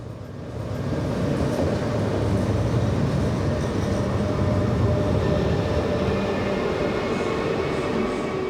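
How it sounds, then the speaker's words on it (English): A regional Arriva train rumbles steadily along, a continuous low roar with faint rail clatter that stays loud and even throughout, no voices. "The train departed on time."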